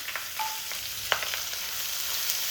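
Sliced onions fry in a pan with a steady close sizzle, with a couple of light stirring clinks and scrapes over it and no talking.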